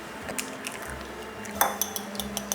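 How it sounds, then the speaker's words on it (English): Two eggs cracked against a hard edge in a kitchen, heard as a few sharp clicks and taps with light clatter around a pan, fairly close and with no voices. "Now we crack 2 eggs."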